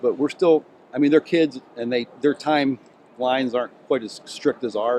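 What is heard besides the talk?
No everyday noises stand out.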